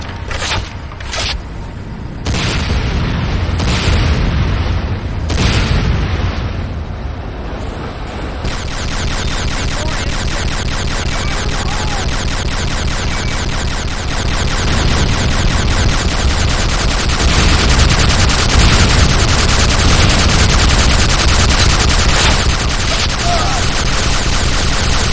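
Gunfire and explosions from a battle in the Renegade video game as a GDI Tiberium Refinery comes under attack, a dense, loud, continuous barrage of shots and blasts that stays steady for the whole stretch.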